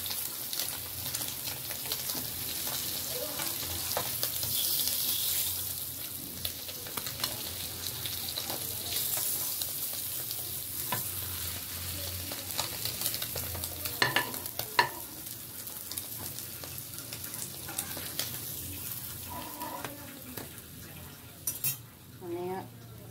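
Fish frying in hot oil, crisping in a pan, sizzles steadily throughout with occasional clinks of a utensil and stirring scrapes, fairly close and continuous with no talking.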